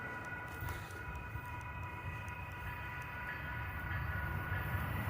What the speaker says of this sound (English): Here comes Amtrak, it looks like. Yep, Amtrak. Siemens Charger.